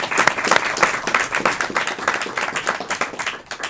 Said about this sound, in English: round of applause to the